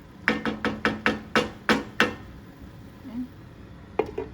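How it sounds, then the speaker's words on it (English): Metal pot lid lifted off a pan of caramelizing onions, a run of about eight sharp clanks and knocks in quick succession, then a pause and a couple more clinks, fairly close with no talking. "And we're taking the lid off."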